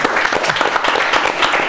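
Audience applause fills a Spanish-language comedy show, steady, dense clapping from a crowd, loud and continuous throughout.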